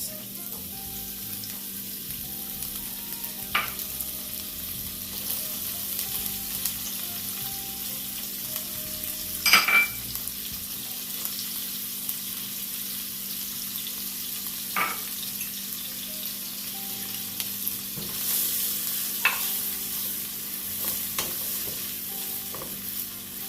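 Vegetables sautéing in melted butter and olive oil in a pot give a steady low sizzle, with a few sharp utensil clinks and scrapes at intervals, close and even throughout with no voices.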